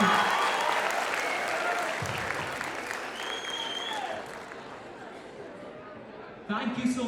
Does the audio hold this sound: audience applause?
yes